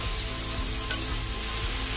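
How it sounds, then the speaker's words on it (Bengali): Shrimp fry briefly in hot oil for a potato-shrimp curry, giving a steady, close crackling sizzle that holds even throughout with no talking. "এবার আমি ওই তেলের মধ্যে চিংড়ি মাছগুলো আমি ভেজে নেব।"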